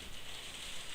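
Steady rain hisses softly and evenly, a faint wash of falling drops with no voices, heard during play of Train Sim World 3.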